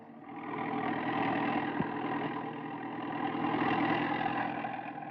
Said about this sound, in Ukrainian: По 40 гектарів гороху замість 24 засівають щодня тракторист Дмитро Афанасьович Сакали